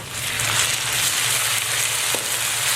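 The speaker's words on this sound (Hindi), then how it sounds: "अब इस मौके पे हम इसमें अदरक और लहसुन का पेस्ट शामिल करते हैं।" Ginger garlic paste fries with browned onions in a pan, giving a steady, close hiss and sizzle with faint stirring scrapes throughout.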